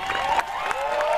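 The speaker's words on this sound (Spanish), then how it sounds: "aplausos para el niño." Audience at a Michael Jackson tribute event applauding for a little boy, a short burst of clapping and crowd cheering, loud and close, with some shouts mixed in.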